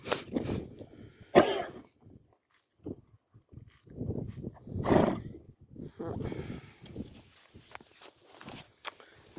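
A horse with breathing trouble coughs several times in harsh, forceful bursts while eating hay, with breathing and shuffling hooves between them, fairly close.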